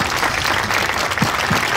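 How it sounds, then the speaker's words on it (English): A big round of applause at a Veterans Day ceremony for a woman who has just sung, a dense, even wash of many hands clapping, sustained and loud with no talk over it. "let's give her another big round of applause"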